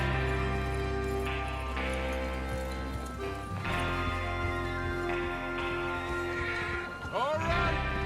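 Horses whinny and neigh with clip-clopping hooves in Red Dead Redemption 2, a steady layered wash of game audio with a sharp rising call near the end.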